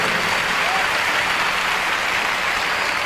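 A church congregation gives a sustained round of applause, dense and even, filling the room loudly from start to finish with no distinct individual claps.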